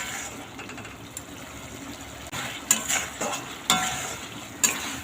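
Teasel gourd curry cooking down in a pan as it is stirred, with soft bubbling and intermittent scraping strokes of a spatula growing more frequent toward the end, close and fairly quiet, no talking.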